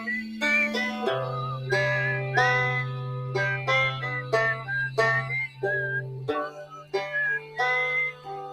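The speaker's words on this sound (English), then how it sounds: "Not sure how I feel about the whistling rendition of this" A whistled melody of sustained and gliding notes, clear and fairly close, playing over a steady low drone with no talk.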